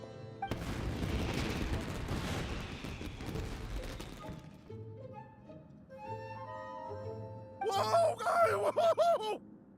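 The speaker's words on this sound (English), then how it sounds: "Yoimiya, this is turning into a bit of a fireworks display" Fireworks explode in the video game Genshin Impact as a dense rumble of overlapping booms for about four seconds. It fades into quieter ringing tones, with a short burst of voice near the end.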